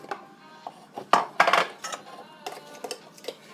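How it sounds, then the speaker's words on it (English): A spoon scrapes and clinks against a pot while nut flour and butter are stirred, giving a few irregular close metallic knocks and scraping strokes, loudest near the middle, with no voices. "We'll give that a stir."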